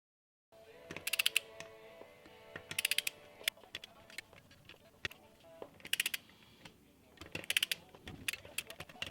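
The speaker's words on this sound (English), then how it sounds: "So you got to go down as evenly as possible until literally nothing moves at all when you stick the wrench on it." Ratchet wrench clicking in repeated bursts while tightening bolts on a beadlock wheel, close and fairly quiet, with short clustered ratcheting runs separated by lighter metallic taps and handling noise.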